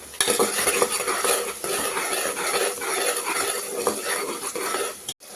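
Onions frying with a half spoon of salt in a pan for mutton curry, loud close sizzling with constant stirring and spoon scraping against the metal, ending in a brief pause.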